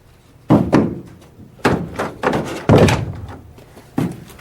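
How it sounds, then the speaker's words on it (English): Close, loud thuds land against a door on a TV set, a single hit followed by a rough run of several heavy knocks and a final one, with no talk. "And knock knock"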